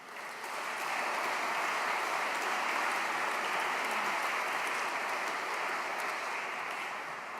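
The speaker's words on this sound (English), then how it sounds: "Please give him a round of applause." Guests at an awards banquet give a round of applause, a dense, even clapping that swells in quickly and holds steady at a moderate distance, with no talk over it.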